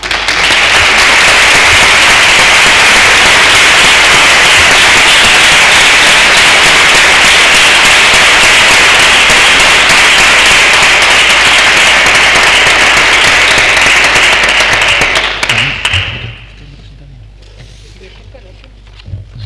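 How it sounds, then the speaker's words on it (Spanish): Dense, sustained audience applause fills a hall after a lecture at a conference on gender equality and violence against women in Toledo, loud and continuous for about fifteen seconds before cutting off to quiet room tone. "sobre todo escuchar el aplauso recibido"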